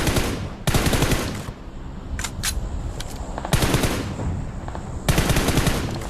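Rapid automatic gunfire bursts from the mobile battle royale game PUBG Mobile, three loud sustained volleys separated by quieter gaps with a couple of short distant shots in between.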